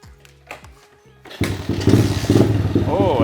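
A repaired pit bike engine starts after a few thumps, then settles into a loud, close, steady chugging idle with slight rev fluctuations; a voice speaks briefly near the start.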